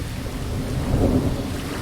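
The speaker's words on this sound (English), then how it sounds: "there's just the thunder and waves from that track" Thunder and waves ambience from the Skyrealm library rolls as a low rumbling swell with a broad wash of noise, rising slightly midway before easing.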